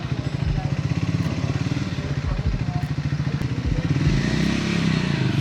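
A motorcycle rides along with a close, pulsing engine note that slows and rises near the end during braking, with some clatter and scraping mixed in and no speech.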